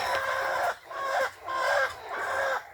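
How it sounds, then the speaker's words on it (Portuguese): Frightened chickens squawking and clucking in four loud, agitated bursts with short pauses between, close by and without talk, as a hawk appears overhead. "As galinhas ficam apavoradas."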